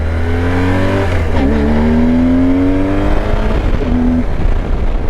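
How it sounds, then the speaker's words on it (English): A car engine revs and climbs steadily in pitch, dips briefly as the loud gearbox shifts gear, then rises again and cuts off, loud and close. "She's still a loud gearbox in comparison to bikes I've owned"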